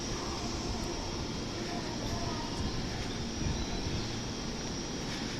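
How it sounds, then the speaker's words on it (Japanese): A Biwako Line local train pulls into a platform at Kyoto Station, heard as a steady low rumble with faint rail noise throughout, moderately distant. "いろいろ説明している間にまた向こうに電車が来ましたね"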